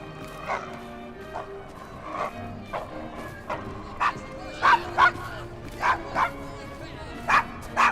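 A dog named Desmond in Assassin's Creed Syndicate gives a string of short yips, barks and whimpers at a steady pace, growing louder toward the end, amid faint game ambience.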